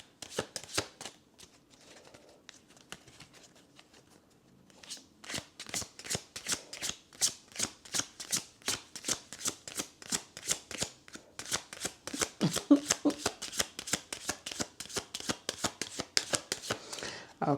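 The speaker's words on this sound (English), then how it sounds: "I was sitting here shuffling those cards." A deck of cards being shuffled up close, with a few soft riffles and handling sounds at first, then a long run of sharp, rapid, evenly spaced card snaps, loud and alone with no talk.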